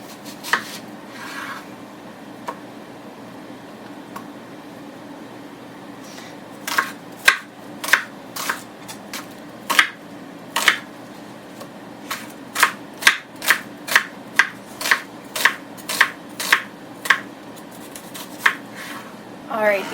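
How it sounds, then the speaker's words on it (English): A knife slices an onion thinly on a cutting board in a home kitchen, with sparse cuts at first, then a quickening run of crisp, evenly spaced chops close by against quiet background hum. "the onions are cut very thin"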